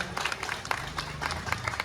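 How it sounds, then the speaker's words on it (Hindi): An audience at an honoring ceremony at Ambika Dham claps for Purushottam ji, a brief burst of scattered, moderately loud applause from a crowd. "पुरुषोत्तम जी के लिए एक बार जोरदार तालियां हो जाए।"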